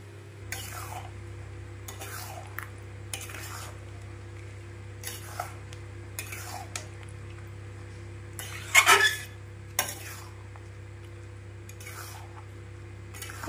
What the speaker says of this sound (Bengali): গুড়টি আস্তে আস্তে গলে যাবে, এভাবে নেড়ে দিতে হবে আমগুলোর সাথে।